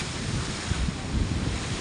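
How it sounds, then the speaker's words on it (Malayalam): Rough sea waves crash and surge in a steady low roar, heavily mixed with gusting wind buffeting the microphone. "കണ്ട രൂക്ഷമായിട്ടാണ് കടലടിക്കുന്നത്"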